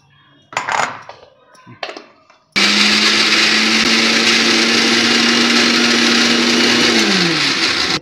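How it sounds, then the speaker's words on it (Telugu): A mixer grinder blends cumin with other spices for a Telangana snack, starting abruptly after a few clinks and taps, then whirring loudly and steadily with a high pitched motor drone that dips near the end. "ఇవన్నీ మిక్సీ పట్టుకుందాం."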